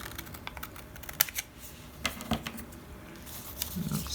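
Scissors cut a narrow paper strip for a handmade junk journal, a short series of crisp, irregular snipping clicks heard up close in a quiet room.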